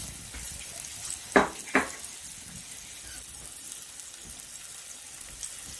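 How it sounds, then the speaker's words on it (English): Floured steak pieces browning in hot oil, giving a steady close sizzle and crackle throughout, with two sharper bursts early on where meat hits the pan, and no voices. "I love that sizzling sound."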